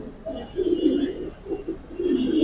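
Jabra pigeons coo nearby in low, rolling bursts, several soft throaty phrases separated by short pauses, with faint background noise around them.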